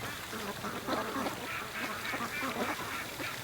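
Free-range ducks quack in a low, rapid, overlapping chatter at moderate distance over a noisy outdoor background, without speech.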